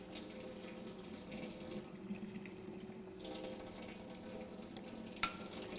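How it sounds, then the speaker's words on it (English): Water pours steadily into chickpea flour (besan) batter, a continuous close splashing rush that runs for several seconds with a brief clink near the end. "Now you put an equal amount of water."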